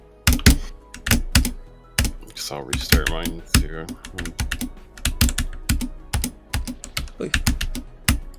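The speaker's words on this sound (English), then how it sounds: "we still have the grand old keyboard sounds to keep us going" Close, loud computer keyboard typing in irregular bursts of sharp clicking keystrokes during a game speedrun stream, while someone talks over it.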